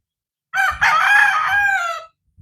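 A Boston gamefowl rooster crows once, close and loud, in a single long call of about a second and a half, followed by a brief low rustle.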